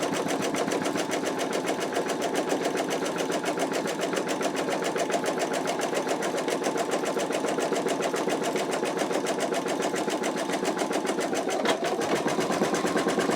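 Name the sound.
embroidery machine stitching out in-the-hoop wallet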